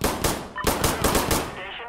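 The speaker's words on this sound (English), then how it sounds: "Get Warlock to strafe this position." Air-support strafing gunfire rakes a position in the shooter game Insurgency: Sandstorm, loud rapid bursts of automatic fire with a short gap near the start and a fading tail, heard alone.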